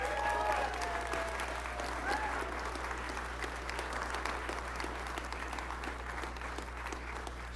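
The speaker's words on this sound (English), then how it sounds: "Round of applause for Elon." A crowd at a Tesla Nevada Gigafactory expansion speech breaks into sustained applause for Elon Musk, an even, dense wash of clapping over a steady low hum, with faint voices briefly audible early on.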